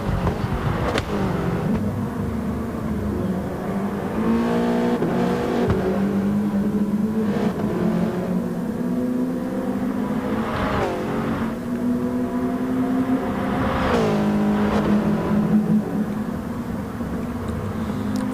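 Race cars in an eRacing video game roar continuously at steady loudness, engines rising and falling in pitch as they rev and shift through the full stretch, with no voice over them.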